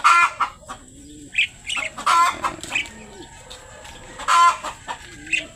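Chickens cluck and squawk in a loft in short bursts, with rooster-like calls and some wing flapping in the background. A voice speaks briefly among the clucks.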